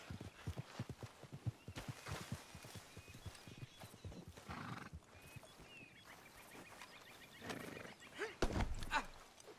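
Horse hooves clip-clop in Red Dead Redemption 2, with a horse whinnying among the steps and an uneven, fairly close rhythm. Game sounds surround it, and a voice speaks faintly.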